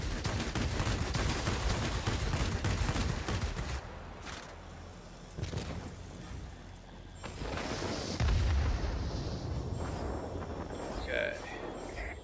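Gunfire during an aerial dogfight in the World of Warplanes video game, heard as dense continuous bursts over loud engine roar. A few sharp impacts and game effects follow as the firing thins out.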